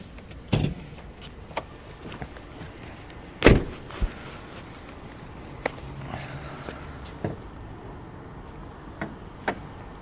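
Hood of a Mazda CX-30 being opened: a sharp clunk of the release and latch, followed by a few scattered knocks and footsteps in a quiet setting.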